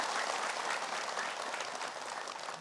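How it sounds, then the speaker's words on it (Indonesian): A studio audience at an Indonesian religious talk show claps together in a dense, sustained wave of applause that fills the room and fades slightly toward the end. "Tepuk tangan semuanya."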